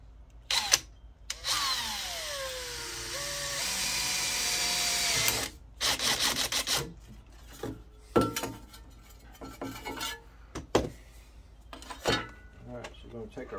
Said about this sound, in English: I'm gonna use this 1/8 inch bit, the size of my rivets. Get this first hole drilled.